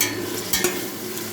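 Onions fry in a pan with rock salt, giving a brief steady sizzle with a couple of quick stirring scrapes.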